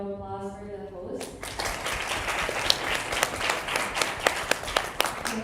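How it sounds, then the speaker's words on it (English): Audience applause at a regional assembly session, sustained clapping from a crowd that starts abruptly after a brief sustained tone and continues steadily with sharp individual claps standing out. "Can we have applause for the host?"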